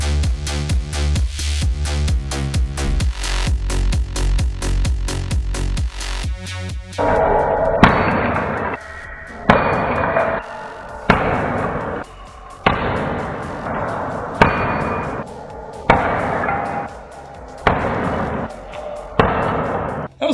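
Sledgehammer blows breaking up floor tile and mortar, a run of heavy thuds and cracking crashes spaced roughly every second or two, close and loud, following a stretch of rapid percussive clatter.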